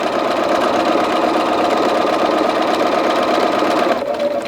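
Sewing machine stitching through a quilt, a steady close mechanical whir running without pause for several seconds before easing off slightly near the end.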